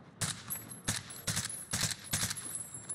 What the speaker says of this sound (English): Just shooting him for funsies.